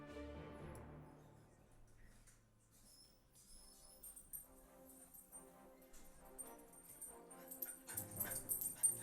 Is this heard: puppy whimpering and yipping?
yes